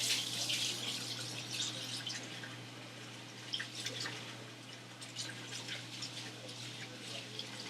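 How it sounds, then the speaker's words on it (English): Water runs steadily from a kitchen tap while someone washes their hands during rib preparation, a continuous close hiss with a faint low hum underneath. "I better wash my hands."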